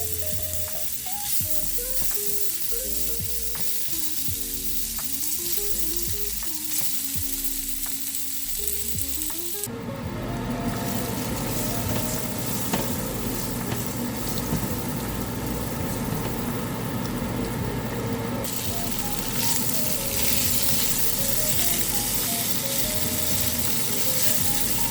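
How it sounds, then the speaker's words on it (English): Paneer frying in a pan, with steady loud sizzling throughout and a sudden surge in intensity partway through as the pieces go in, along with soft stirring and no voices. "Adding the paneer to the pan."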